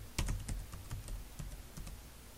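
Keys clack on a computer keyboard in a short typing burst, quick irregular taps close up with a quiet background and no voices.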